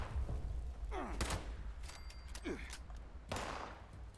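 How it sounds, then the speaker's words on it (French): Muffled explosions and bursts of gunfire from a first-person video game, including a thrown grenade, crack out in several sharp separate hits over a low rumbling background. "Il me balance une grenade."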